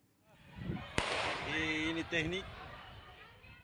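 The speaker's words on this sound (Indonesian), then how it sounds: "Tembakan peringatan terpaksa dilepaskan polisi untuk membubarkan bentrok antar mahasiswa." A single sharp police warning gunshot cracks out during a student clash on a university campus in Makassar, followed by shouting voices and crowd noise.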